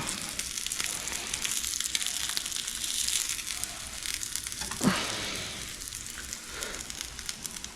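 Steak sizzling in a pan over medium heat, a steady crackling fry with one brief louder burst as the meat is moved around; no voices.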